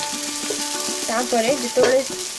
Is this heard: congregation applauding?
no